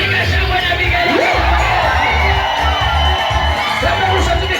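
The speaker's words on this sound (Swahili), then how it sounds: "piga shangwe na vigelegele." A worship congregation erupts in loud cheering, shouting and high ululation, a dense continuous roar of many voices close around, with a leader's voice calling out within it.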